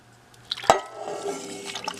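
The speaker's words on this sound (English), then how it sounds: "Pour that sauce all over the place." BBQ sauce is poured over ribs in an Instant Pot, a wet splat followed by a thick, gurgling trickle of liquid with a few soft drips, close and moderately loud.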